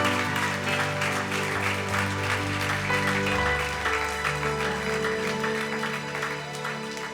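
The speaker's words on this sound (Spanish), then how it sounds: "Dale un fuerte aplauso al Señor." A church congregation clapping loudly and steadily at a revival service, continuous dense applause over a sustained musical drone.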